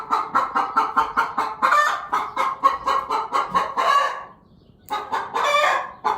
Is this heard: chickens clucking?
yes